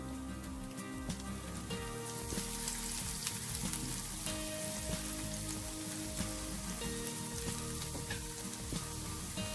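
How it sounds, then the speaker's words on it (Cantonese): Minced garlic stir-fries in a hot wok with a dense, steady crackling sizzle and scattered sharp pops, close and continuous with no voices. "爆一爆呢個蒜蓉"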